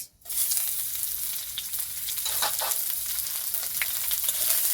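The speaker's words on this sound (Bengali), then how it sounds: "পেঁয়াজটাকে আমি হালকা করে ভেজে নেবো" Onion with bay leaves and whole cumin fries in hot oil for a rohu fish curry, a steady close sizzle with crackling spurts and the odd stir, no talk.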